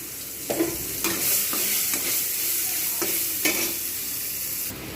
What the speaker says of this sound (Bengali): পেঁয়াজগুলোকে আমি এবারে ভালো করে ভেজে নেব